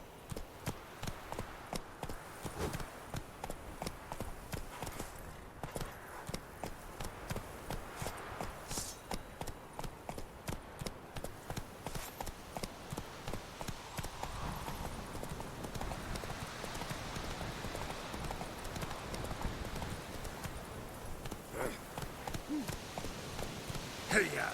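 Roach, the horse in The Witcher 3, gallops in a steady, rapid clip-clop of hooves that runs nearly the whole time, fairly close, with faint background game sounds and some talk over it.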